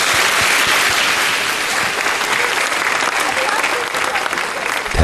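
A crowd applauds a singer loudly and steadily, dense clapping filling the whole stretch with a few cheers mixed in.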